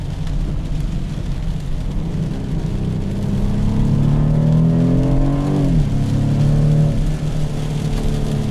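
A 2015 BMW 428i accelerating hard, its engine note and rising turbo whine climbing steadily in pitch, dipping briefly at a shift, then climbing again, loud and close from inside the car with no talking.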